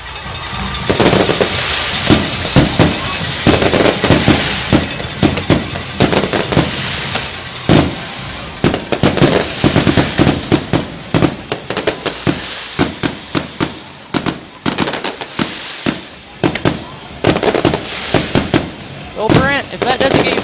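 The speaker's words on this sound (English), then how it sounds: "As you can see, the fireworks are exploding, the fog is going off, and here come your Campbell County Cougars." Fireworks and firecrackers burst in a rapid, dense barrage at a high school football stadium during team introductions, loud and continuous with sharp cracks, while crowd noise rumbles underneath.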